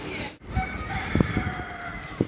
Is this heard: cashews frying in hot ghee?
no